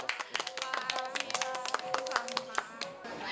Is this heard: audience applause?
yes